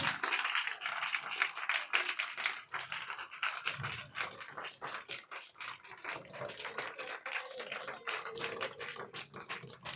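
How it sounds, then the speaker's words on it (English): Applause from a crowd at a school Republic Day celebration, a dense patter of many hands clapping continuously throughout, moderately distant and fairly quiet, with no talking. "let's give them a loud round of applause for the effort taken"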